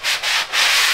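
Three quick, raspy scrapes of sandpaper rubbed back and forth over drywall joint compound in a corner, close and loud, with brief gaps between strokes.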